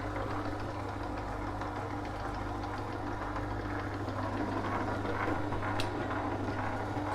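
An electric dough sheeter runs steadily in a home kitchen, giving a continuous low motor hum with a faint rattling vibration, fairly close and unbroken, with no talking over it.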